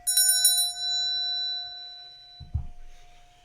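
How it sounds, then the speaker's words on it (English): A bell is struck once nearby, giving a bright metallic attack and a long, pure ring that slowly decays, with a soft thump near the end. "ring this bell"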